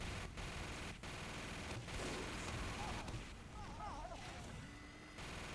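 Gunfire from a video game match with a sniper involved, several muffled distant shots and bursts spread across the clip over a steady noisy background.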